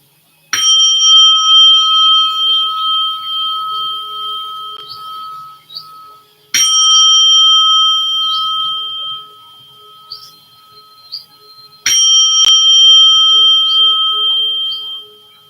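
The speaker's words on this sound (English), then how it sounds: "I'm going to ring the bell so that you know the class is ending." Three clear meditation bell strikes ending a meditation class, spaced several seconds apart, each ringing out with a long shimmering sustain before the next.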